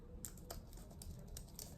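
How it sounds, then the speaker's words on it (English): A quieter computer keyboard is tapped in soft, faint keystrokes at an uneven pace over a low background hum. "I love typing on my keyboard here"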